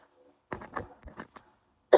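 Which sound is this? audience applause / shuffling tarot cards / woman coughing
woman coughing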